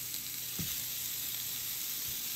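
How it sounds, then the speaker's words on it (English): A steak sears in olive oil in a hot pan with a continuous faint, even sizzle and hiss, broken by a couple of soft low knocks. "Go ahead and sear all sides."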